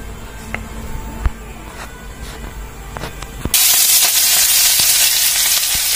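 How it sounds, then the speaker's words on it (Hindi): Onions dropped into hot oil, with quiet kitchen clicks at first and then a sudden loud, broad sizzle that bursts in and holds steady, close up. "प्याज डाल देंगे, गर्म हो गया तेल"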